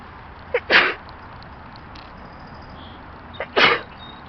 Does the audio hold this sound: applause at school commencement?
no